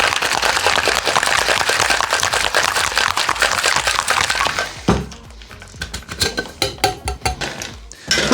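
Ice rattles hard inside a cocktail shaker as an alcohol-free mocktail with tonic is shaken, a loud rapid continuous clatter for about five seconds, then scattered clinks of ice settling.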